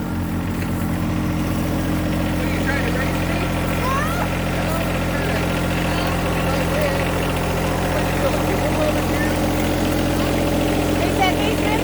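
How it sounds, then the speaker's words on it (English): A tractor engine runs steadily at idle on a farm, a continuous low, throbbing drone that stays even and fairly near throughout. "here comes the tractor so we can get some work going."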